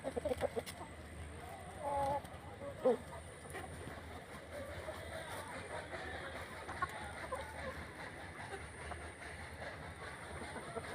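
Desi hens and roosters on a Punjabi farm cluck steadily over a constant rumbling background, with one louder squawk rising briefly above the flock.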